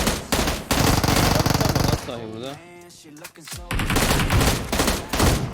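M16 rifle fire in the battle royale game PUBG: rapid bursts of loud automatic gunfire, broken by a short pause in which someone talks, then continuing in dense volleys.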